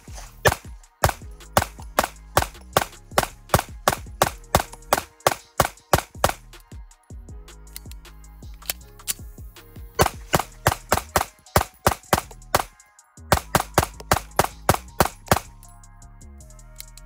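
An Alpha Foxtrot Romulus pistol fed from Staccato magazines fires in rapid strings, loud sharp close reports with brief pauses between groups and a few metallic clinks.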